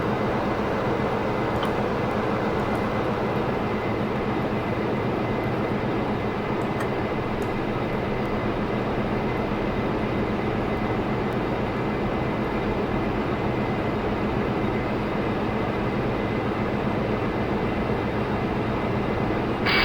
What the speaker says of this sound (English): now we have clearance to start the engine number 1